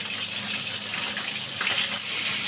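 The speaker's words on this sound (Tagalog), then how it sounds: "Lagyan ko yan ng tubig." Water is poured into an escabeche sauce made with ketchup, a continuous splashing gush that stays fairly even throughout, with no talking.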